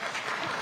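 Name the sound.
audience applauding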